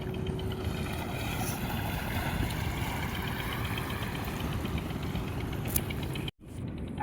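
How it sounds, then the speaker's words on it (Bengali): A boat engine drones steadily on a river where fishing boats pass, a continuous low rumble with wind and water noise, fairly close and unbroken until a brief cut near the end. "কত নৌকা আসছে শুধু মাছ ধরে।"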